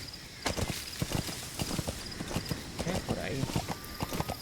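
Horse hooves clip-clop at a steady walking rhythm in Metal Gear Solid V: The Phantom Pain, with sharp, fairly close strikes running through the whole stretch while someone talks over them.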